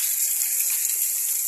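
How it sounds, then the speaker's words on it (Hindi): Heavy rain falls at night in a steady, even hiss, with no break and no voices over it. "जम जम बारिश बहुत अच्छी लग रही है।"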